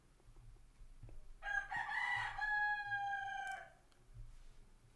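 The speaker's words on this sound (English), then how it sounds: "I'm just confused why this chicken is still crowing at this time" A rooster crows once from some distance, a single drawn-out cock-a-doodle-doo rising over low background rumble, with quiet surroundings before and after.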